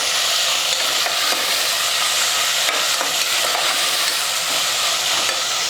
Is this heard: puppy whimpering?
no